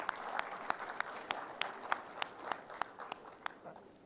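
Scattered audience applause in a university hall after a formal address, with sharp individual claps landing at a fairly steady, sparse rhythm over a low murmur of room noise.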